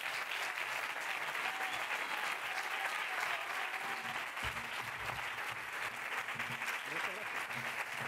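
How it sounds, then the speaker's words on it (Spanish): Audience at a film festival closing gala applauds during the award ceremony, a continuous, somewhat distant wall of clapping with faint voices underneath. "Un fuerte aplauso para él, por favor."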